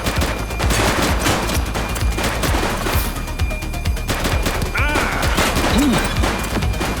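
Dense, rapid gunfire rattles nonstop in a police shootout in the game The Precinct, with loud close shots and bursts stacking up and a brief voice under the firing.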